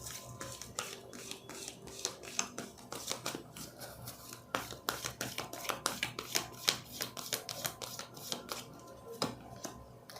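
Tarot cards being shuffled by hand at close range, a rapid run of crisp riffling flicks and slaps in irregular bursts, with no speech.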